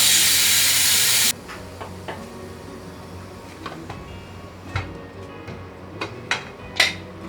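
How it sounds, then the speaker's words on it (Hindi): A pressure cooker holding mutton releases a loud burst of hissing steam for about a second, then cuts off, followed by scattered light clinks and taps of pots and utensils. "इसको प्रेशर कुकर को बंद करके इसको गलने के लिए रख देंगे।"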